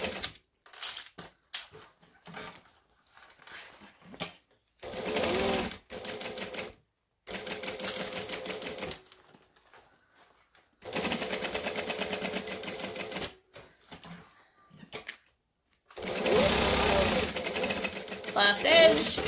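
A sewing machine stitches the seam of a hexagon-panel bag in several loud, rapid, whirring bursts, each lasting a few seconds. Quiet gaps with faint handling noises fall between the bursts.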